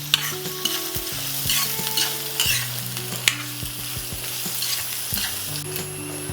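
Large onions frying in a pan for masala paniyaram, a steady sizzle with repeated scraping of a spoon stirring them, close and continuous.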